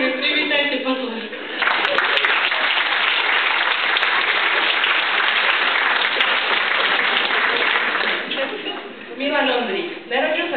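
An audience at a banquet program breaks into sustained applause welcoming a speaker, a dense wash of clapping that swells quickly and holds steady for several seconds before fading, with a voice speaking briefly before and after.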